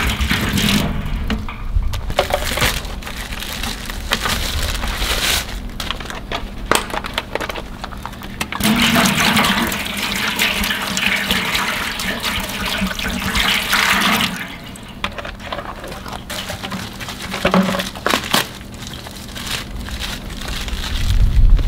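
Hydrogen peroxide and water pour and splash into a container for whitening an elk skull, a loud continuous gushing with uneven surges and brief pauses.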